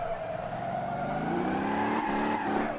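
A car engine revs hard while drifting on a race track in Motor Town: Behind The Wheel, its pitch climbing and wavering in a loud continuous whine with short dips as the throttle shifts.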